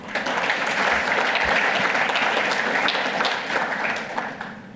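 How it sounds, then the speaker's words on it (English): A conference audience gives a sustained round of applause for a land information management project team in Malawi, dense steady clapping that fills the room for several seconds before easing off near the end. "I'd like them to just get a round of applause before I move forward."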